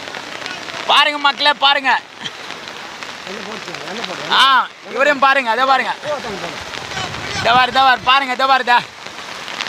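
Heavy rain pours steadily as a continuous hiss over a flooded village, heard under someone talking excitedly in Tamil throughout.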